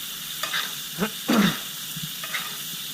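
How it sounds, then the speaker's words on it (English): A steak sears in a hot cast-iron pan while hot garlic butter is spooned over it, giving a steady loud sizzle with brief sputtering bursts and spoon scrapes. "when you're pouring that hot butter over the steak, you're also helping it cook too"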